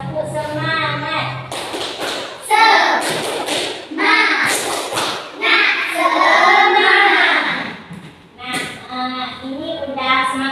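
Children perform a rhythmic spirit clapping chant (tepuk semangat) in a group counseling session, loud patterned claps and thumps mixed with young voices chanting along over about ten seconds.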